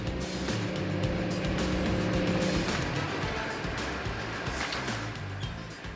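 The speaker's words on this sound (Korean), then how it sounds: "철닫을 바다에 내린 어선이 빠르게 후진하기 시작합니다." A fishing boat's engine running hard at sea as the vessel backs up quickly, a steady loud roar with broadband wash of water and wind throughout, fading slightly at the end.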